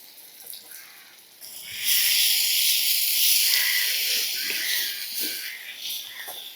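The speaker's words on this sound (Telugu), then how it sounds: "సన్నగా తరిగి పెట్టుకున్న ఉల్లిపాయలు వేస్తున్నానండి" Thinly sliced onions with slit green chillies dropped into hot oil for a dried-fish and egg curry, a loud steady sizzle that swells suddenly and holds, then eases slightly while stirring clatters faintly.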